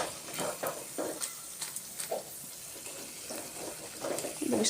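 Cauliflower fritters fry crisply in hot oil, a close, continuous sizzle broken by bursts of crackling and the soft scrape of stirring.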